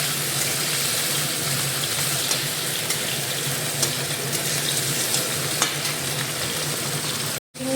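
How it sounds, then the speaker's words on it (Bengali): Prawns, potato and pointed gourd fry in a home kitchen pan, giving a continuous close sizzle with a few small pops and stirring clinks throughout and no talking, before a brief cutoff near the end. "চিংড়ি ভাজা হচ্ছে, আলুটা উঠিয়ে নিয়েছি, পটল ভাজছি আর এই লাউ।"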